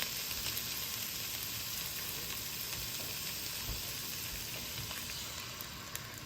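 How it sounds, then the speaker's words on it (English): Food sizzles in a saute pan, a faint steady crackling hiss with scattered pops throughout, no voices. "You'll hear it start to sizzle, which is good."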